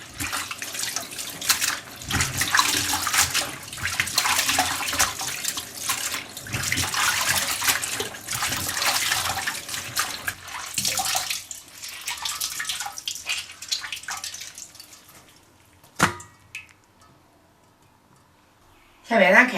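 Tap water runs loud and splashy in a sink while pickled cabbage is washed by hand, fading to quiet drips before a short burst of flow returns; a voice talks over parts of it.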